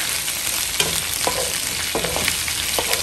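Garlic shrimp (hipon sa bawang) sizzling and being stirred in a pan, with a steady frying hiss and a few scrapes and clinks from the utensil, close and alone.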